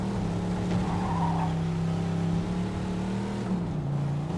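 A car drives in the game Mafia 2, its engine humming steadily at close range while tires squeal and skid over the engine, and the pitch dips briefly near the end.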